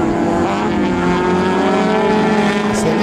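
Street Legal race car at a CIP automobile racing round accelerating hard, a loud, sustained engine roar with rising harmonics that fills the whole short stretch.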